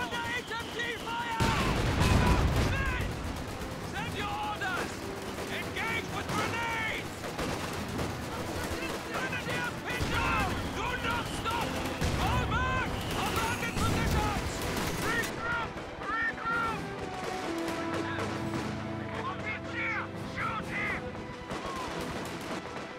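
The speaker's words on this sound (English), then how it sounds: "Under HMG fire!" Heavy machine gun fire in a war video game sounds as sustained bursts of gunfire and distant booms, loud and continuous, with voices and radio chatter over the battle din.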